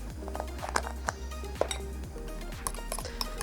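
A spoon clinks against a bowl while stirring homemade baby food seasoned with a pinch of nutmeg: a handful of sharp, close taps at irregular intervals over a soft tonal background, with no talking.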